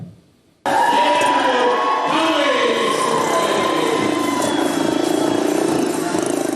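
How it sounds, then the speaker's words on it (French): Five motorcycles race at high speed inside a steel globe of death at a Samoan circus show, their engines droning and rising and falling continuously, close and loud, over a cheering, shouting crowd. "5 motos roulent à vive allure et enchaînent les figures"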